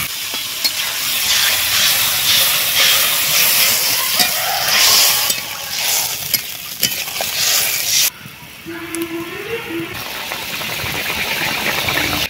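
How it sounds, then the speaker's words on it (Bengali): Water poured into a hot pan of fish curry masala made with dakur fish and potato, giving a loud, close hissing sizzle with stirring and scraping, steadier and quieter toward the end, with no talking. "সুন্দরভাবে সবকিছু কষানো হয়ে গেছে, এবার জল দিয়ে দেব।"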